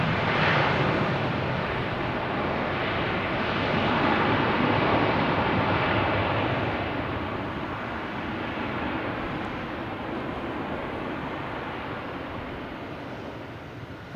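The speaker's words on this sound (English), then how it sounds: "have Swiss Air coming in. A330-300 from Zurich. Making a racket." A Swiss Air Airbus A330-300 from Zurich coming in to land at Boston Logan, its engines producing a loud, steady broadband roar that swells, then slowly fades, with no talk.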